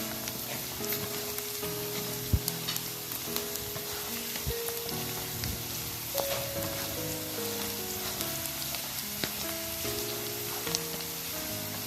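Garlic frying in oil in a pan for Kerala vadukapuli lemon pickle, a continuous crisp sizzle with occasional stirring scrapes, under soft background music.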